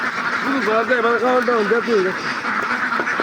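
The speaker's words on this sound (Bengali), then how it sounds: "এটা হচ্ছে আপনার একটা হাউস করা হাঁসের খামার" Ducks quacking inside a housed farm holding several hundred desi ducks, a busy overlapping chorus of close, repeated quacks filling the whole stretch with a constant barn hum underneath.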